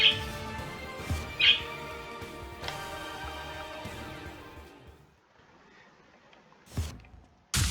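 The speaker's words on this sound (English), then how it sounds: "These birds are just having a field day, they're just going nuts." Birds give two sharp squawks early on over a steady background hum, then the scene drops to near quiet with a few isolated knocks.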